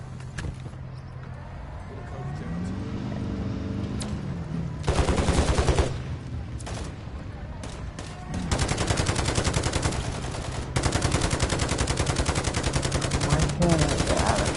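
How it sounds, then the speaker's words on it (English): Semi-automatic rifle fire in the Call of Duty: Modern Warfare III campaign, with loud bursts of rapid shots in several stretches over steady game ambience. "It's an semi-auto rifle."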